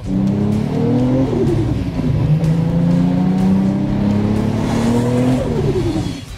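A tuned 800 hp Nissan Skyline GT-R R33 engine revs hard and holds a loud, aggressive high-rpm roar, rising and falling slightly before easing off at the end.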